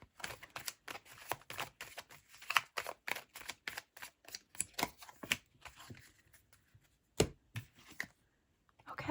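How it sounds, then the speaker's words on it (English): Tarot cards shuffled by hand, a fast series of sharp riffling snaps and slaps in bursts, close and crisp, trailing off into a few isolated taps. "why do I feel like I've been butterfingers here with the shuffling?"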